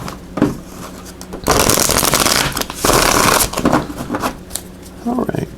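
Rapid papery riffling of tarot cards being shuffled, two long bursts with short taps and rustles around them, close and fairly loud.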